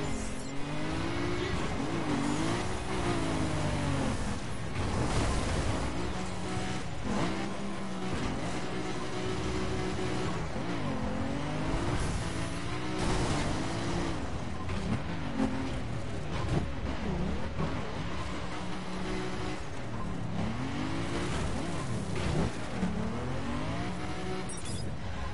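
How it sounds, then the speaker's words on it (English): A car engine in the racing game The Crew strains and revs repeatedly while struggling up a hill. The engine tone rises and falls in steady waves, loud and continuous throughout with no speech. "Oh, come on, you silly car. Don't tell me you can't get up that bloody hill."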